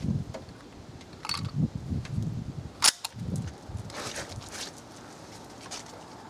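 A single rifle shot from a Remington Woodsmaster model 742 aimed at jugs 100 yards away outdoors, one sharp crack midway through faint rustling and ambient noise, no talk.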